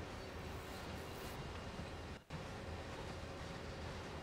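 A CSX heavy-haul freight train in the Train Sim World game rumbles along in a continuous, dense, even roar with a brief dropout midway, no voices over it.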